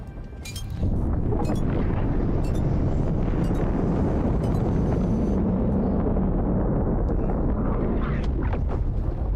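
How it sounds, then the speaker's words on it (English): Spaceship engines in the video game X4 give a loud, continuous roaring rumble that starts abruptly and holds steady, with faint metallic clinks scattered through it. "Sorry, the engines are really loud, but they sound really cool,"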